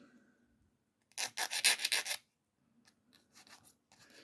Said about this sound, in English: So now I'm just filing these down slightly